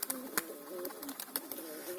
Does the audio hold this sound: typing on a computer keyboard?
no